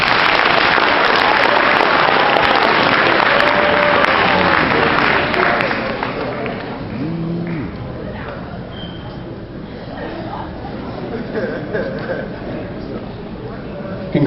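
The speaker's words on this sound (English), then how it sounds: "Hey, round of applause for these two." Audience applause for two people at a 30-year military retirement ceremony, a loud dense clatter of clapping filling the room for about six seconds, then fading to lighter scattered claps and murmuring voices.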